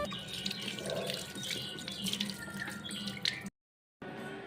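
Dates being rinsed under a running kitchen tap, a steady close splash of water into a sink with small drips, broken by a brief gap near the end.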